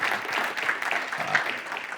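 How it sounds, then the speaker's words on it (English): Brief, moderately loud round of applause from a university event audience, many hands clapping in a dense, even patter for a couple of seconds. "So let's give them a round of applause."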